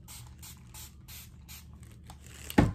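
A water spray bottle mists curly hair in a run of short, crisp hissing bursts, about five evenly spaced, close by, ending with a louder clunk as the bottle is handled.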